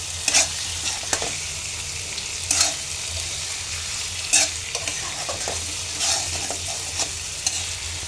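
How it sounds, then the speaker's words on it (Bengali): Diced pumpkin, salted and releasing a little water, frying and being stirred in hot oil, a steady close sizzle broken by several brief stirring scrapes at irregular intervals. "তো আমি কতক্ষণ এটাকে তেলের মধ্যে ভেজে নেব যেন কাঁচা গন্ধটা চলে যায় মিষ্টি কুমড়ার।"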